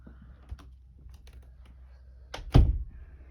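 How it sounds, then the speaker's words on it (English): An indoor room door is pushed shut with light rattles and clicks, then a single solid thump as it closes, close by and alone. "let me close the door so you can see the whole room"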